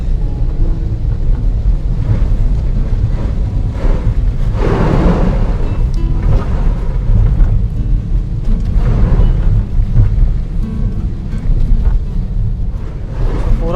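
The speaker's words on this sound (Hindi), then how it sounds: "लगता है यहाँ तो सब जगह बारिश ही बारिश चालू है।" Heavy rain pours down steadily throughout, a dense, loud wash of hiss and rumble, heard while driving through a city near Rawatbhata with water pooling on the roads and passing vehicles splashing through it; no one speaks.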